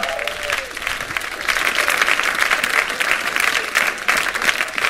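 A church congregation applauds the Lord, a loud, dense, continuous clapping from a large crowd filling the room, with faint voices mixed in.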